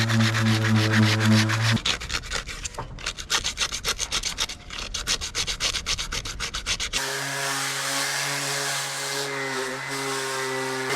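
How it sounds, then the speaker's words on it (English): Steady abrasive sanding on a sailboat hull during paint prep, a loud continuous rubbing and grinding. A low droning hum sits under the start, and a second tool with a steady whine runs near the end. "We finished the sanding, and now Venon is cleaning everything."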